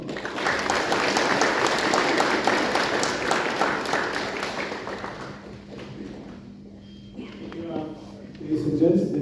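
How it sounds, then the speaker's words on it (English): An audience claps at a provincial gathering in Sandaun Province, Papua New Guinea, loud sustained applause that fades out, followed by quieter sounds and a voice at the end. "Let's give him a round of applause again."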